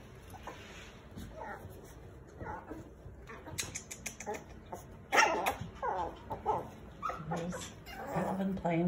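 Six-week-old puppies from a litter bark, yap and whimper in irregular bursts throughout, with a sharp louder yelp near the middle, while a person talks to them over the noise.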